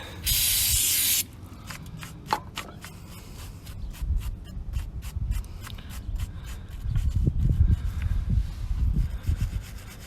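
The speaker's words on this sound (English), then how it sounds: "let me get some spray on there for you." A loud hiss of aerosol spray onto the rear brake parts of a 2015 Dodge Challenger bursts for about a second, then gives way to scraping, tapping and handling noises around metal parts.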